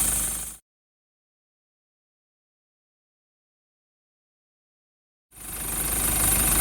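A Toyota 120 Prado engine runs noisily after an injector replacement, with a knocking idle heard in two short loud bursts at the start and end, separated by several seconds of silence.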